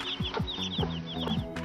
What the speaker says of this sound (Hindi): ये है दुनिया की सबसे क्यूट मुर्गियों की नस्ल जिसको शायद हर कोई पालना चाहेगा।